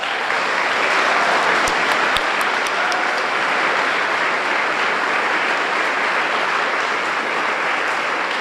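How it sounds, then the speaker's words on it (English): Sustained applause from an audience at a city legacy business awards reception, a dense, loud wash of clapping that holds steady throughout with a few sharper claps standing out early on. "Please join me in one more round of applause"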